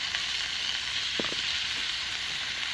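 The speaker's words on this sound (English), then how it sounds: "Sizzling." Steady loud sizzling of meat frying in a hot pan outdoors in freezing winter weather, a continuous hiss with a couple of faint clicks.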